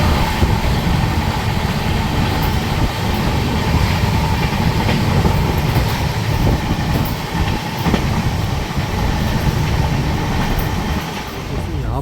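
The 12189 Mahakaushal Express from Jabalpur to Delhi runs on the rails near Sihora Road, with a loud steady rumble, clattering wheels and intermittent clicks from inside the moving coach throughout.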